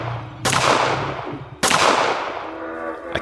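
Two loud pistol shots ring out about a second apart in a tense street chase, each a sharp crack followed by a long echoing decay, with no voices present.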